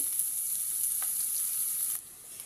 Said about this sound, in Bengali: প্রথমেই পেঁয়াজ কুচি, রসুন কুচি আর মরিচ কুচি দিচ্ছি। পরিমাণ মতো তেল দিচ্ছি।